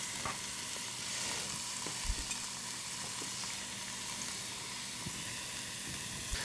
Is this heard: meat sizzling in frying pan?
yes